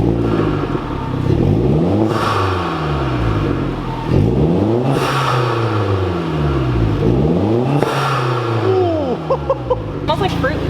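A Hyundai Genesis engine with a louder exhaust revs in repeated rising and falling sweeps about every three seconds, loud and close, with brief clicks near the end.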